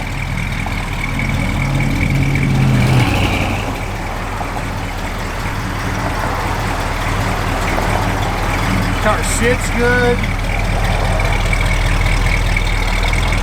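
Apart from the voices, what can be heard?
classic muscle car engine idling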